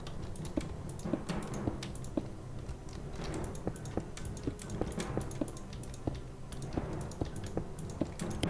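Computer keyboard typing and mouse clicks during Minecraft play, a faint, steady patter of quick key taps with sharper clicks mixed in and no speech.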